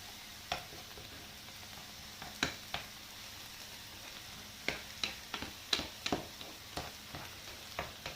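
Mushrooms and bacon sweat in a pan with a soft, faint sizzle, broken by scattered light clicks and taps of a utensil against the pan.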